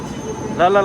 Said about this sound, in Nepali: ट्रेन पनि आइपुग्यो ठ्याक्कै ल